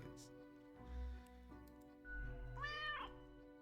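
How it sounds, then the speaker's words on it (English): A cat meows in the video game Death and Taxes, a short rising-and-falling meow near the end, heard over steady game music with low hums and no talk. "it's a delighted meow at the prospect"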